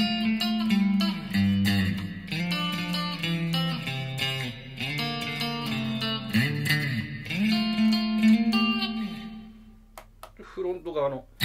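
A PRS SE Silver Sky electric guitar plays chords and sliding notes drenched in deep reverb and chorus, ringing out and fading into a long, washy tail.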